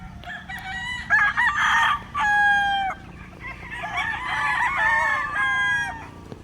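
Kelso gamefowl roosters at a gamefarm crow several times, long clear cock-a-doodle-doo calls at moderate distance, some overlapping, with faint clucking and a quiet background.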